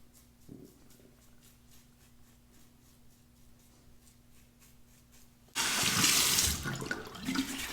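Tap water gushes loudly into a sink after a quiet stretch, rinsing a Fatip Il Grande open comb copper safety razor during a shave; a steady close rush lasting the final couple of seconds.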